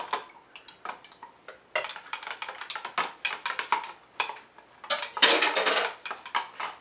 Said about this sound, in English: I'll add my acid. And I'll stir.